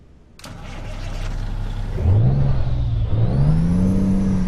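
In Euro Truck Simulator 2, a Kenworth W900 truck's Cummins ISX 12 engine cranks and catches, then settles into a loud, close rumble that rises and falls in pitch as it revs.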